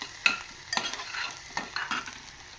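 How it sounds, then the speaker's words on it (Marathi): Coriander being stirred into a sizzling Indian tempering in a pan, with a steady crackle and several scraping strokes of the spoon, close and clear with no talking. "हे छान असं ढवळून घ्यायचं आपल्याला"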